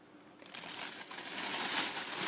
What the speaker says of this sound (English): Get it in a plastic bag. Make sure you have some air in there, like so